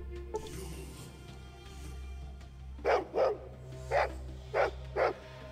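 Five dog barks in Fallout 2, sharp and evenly spaced in the second half, over a steady low game ambience hum with no talking.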